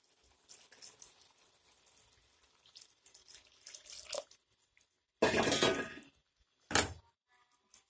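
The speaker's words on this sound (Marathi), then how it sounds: "त्यानंतर पाणी टाकून घेणार आहे मी" Water is poured into a tamarind mixture in a home kitchen in two short bursts, a splashing gush then a briefer pour, after quiet clinking and handling sounds.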